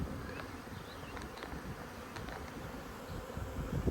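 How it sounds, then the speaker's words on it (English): Honeybees buzz around a hive just after a swarm was installed, making a dense, continuous drone. A few individual bees whine closer past the listener now and then. "There was a ton of bees up under the lid, so I just bumped them back down."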